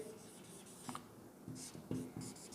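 Faint, close marker or chalk strokes on a board as days of the week are written up, coming in short scratchy bursts with small pauses, and no speech.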